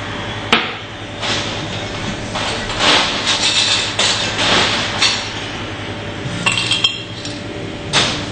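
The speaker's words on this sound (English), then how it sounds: "And stick it into my ice and swirl it around." Ice clinks and rattles in a glass as liquor is swirled during cocktail making at a Manchester nightclub bartending competition, with several bright close clinks over a busy room hum.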